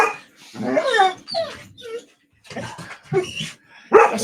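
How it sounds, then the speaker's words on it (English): Dog making a string of close, loud yips, whining barks and vocal whimpers in irregular bursts with short gaps between them. "That's a dog. It has a lot to say about hyperpop."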